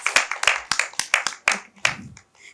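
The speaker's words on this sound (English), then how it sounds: "Let's have a huge round of applause for our moderators." A conference audience claps for the moderators of an ecommerce roundtable, a short burst of brisk, fairly close claps that thins out within a couple of seconds.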